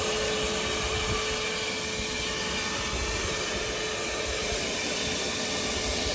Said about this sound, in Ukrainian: обов'язково треба як включаємо пилісос, прокрутити заднє колесо, щоб вакуум